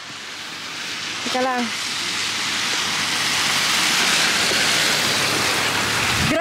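Strong wind blows through snowy Paris during the first snowfall, a loud, steady broadband rush close to the microphone that swells and holds, while someone speaks briefly over it.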